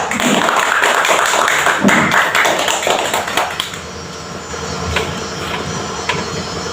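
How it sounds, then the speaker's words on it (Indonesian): Students in a classroom clap loudly for a student group for a few seconds; the applause then fades into quieter room noise. "Tepuk tangan untuk kelompok 2."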